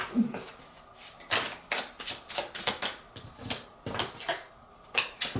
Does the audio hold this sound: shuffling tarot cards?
yes